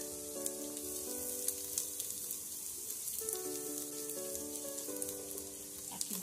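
Garlic and dried beef frying in bacon fat, making a steady, close hiss and sizzle with soft crackles. Quiet background music runs underneath, and there is no talking.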